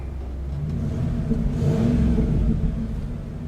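A Ford Bronco engine revs up and holds under load in a steady, loud mid-range drone, swelling slightly midway as the automatic transmission works through its gear shifts, with no speech.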